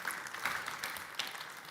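A hardware pitch event audience applauds a presenter, fairly quiet, scattered clapping with a few sharper individual claps standing out, heard from some distance.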